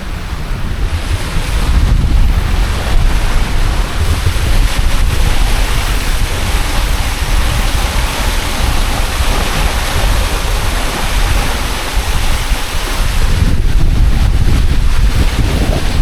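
Strong wind and rushing waves roar steadily around a Hobie Cat 16 catamaran sailing fast offshore in big gusts, a loud continuous wash with wind buffeting the microphone throughout.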